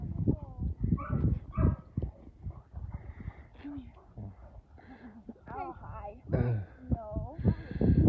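Young puppies yipping, whimpering and barking in bursts close by, mixed with people talking over them throughout.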